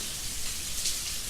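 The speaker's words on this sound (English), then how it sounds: "Isn't it so relaxing to listen to the rain dropping?" Rain falls steadily on a surface, a continuous close hiss of drops with no talking, even and unbroken throughout.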